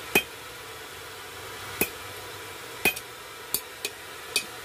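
Hammer blows on the welded area of a forged blacksmith knife ring out as six sharp, separate metallic strikes at uneven intervals, spaced about a second apart over a low background hum.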